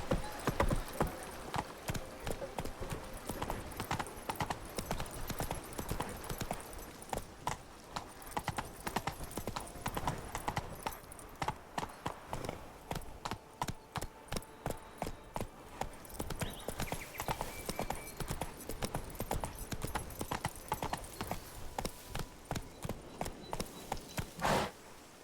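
Roach the horse gallops in The Witcher 3, a long run of rapid, rhythmic hoofbeats that stays close and loud throughout, with an occasional whinny and brief bits of a voice.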